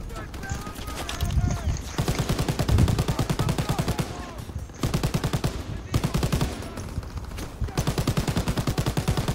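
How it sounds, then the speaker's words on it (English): Rapid machine gun fire from a Call of Duty WWII battle at the Rhine, in dense, rhythmic bursts that run nearly continuously, loud and close, with brief gaps between volleys. "Oh yeah, I used an MG."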